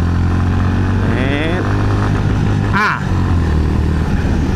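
Motorcycle engine accelerating steadily in second gear, a loud continuous drone with rising revs close by, with a brief dip near the end and no talk over it.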